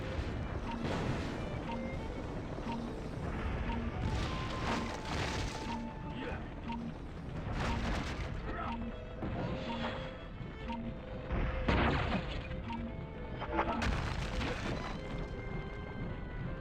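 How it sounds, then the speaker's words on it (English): Ceiling collapsing in the Ben 10 Ultimate Alien Cosmic Destruction video game: steady loud rumble with crashing booms and debris impacts, layered under game music and characters' voices. "The ceiling's totally coming down! The floor's giving way."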